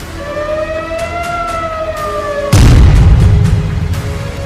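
An air raid siren wails with sweeping tones during an Iranian missile attack on Tel Aviv, then a loud explosion booms halfway through, followed by a rumbling roar and further faint blasts.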